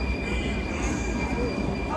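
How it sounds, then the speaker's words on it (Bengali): A train rolls past a fairground in Florence, Italy, a continuous dense rumble with a high steady wheel squeal running throughout, loud and close for the whole stretch. "এখানে যে ট্রেন যাইতেছে দেখতে পাচ্ছেন।"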